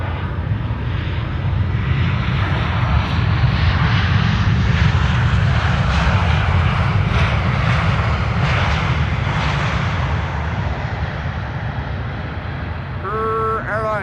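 Loud, sustained jet engine roar from an airliner landing at Amsterdam Schiphol Airport on a winter morning, swelling as it passes close by and then easing off slightly toward the end.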